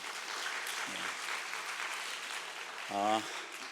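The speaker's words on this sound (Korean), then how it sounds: "우리 수고하는 우리 방송실 스태프들 향해서 우리 감사의 박수 한번 쳐줍시다." A church congregation claps in thanks for the broadcast staff during a Sunday service, a soft, even patter of applause at moderate distance, with two short tonal sounds rising briefly over it.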